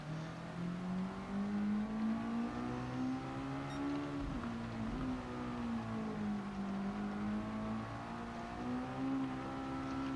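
Race car engine in a racing video game, short shifting: a steady droning engine note rises, dips at a gearchange around the middle, then climbs and settles again, continuous and close with no talk.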